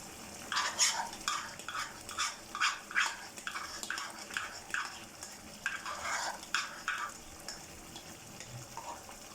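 A spoon stirs yogurt into black pepper chicken in a pan, producing a quick series of rhythmic scraping and sloshing strokes with a soft sizzle, close and fairly quiet.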